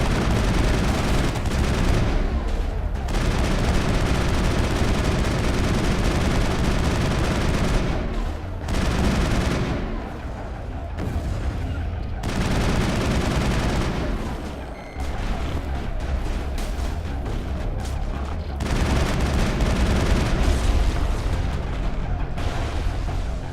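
Sustained assault rifle fire in Mass Effect combat, long loud bursts of rapid shots broken by brief pauses, set against constant battlefield noise.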